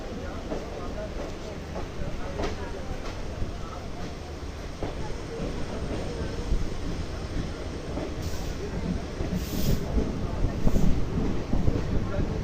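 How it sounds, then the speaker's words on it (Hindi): Kathgodam–Delhi Uttaranchal Sampark Kranti Express pulling out of Rudrapur City, a steady broadband rumble of rolling wheels and carriages, loud and continuous throughout with a few brief higher squeaks near the end. "Train is departing Rudrapur city."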